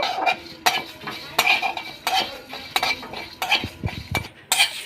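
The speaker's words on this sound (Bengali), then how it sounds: "এবারে সবগুলো আমি আরেকটু ভালো করে ভেজে নেব।" Whole coriander and cumin roast in a pan, heard as a run of close metallic scrapes and clinks from a spatula being stirred in quick, uneven strokes, with only a faint frying hiss.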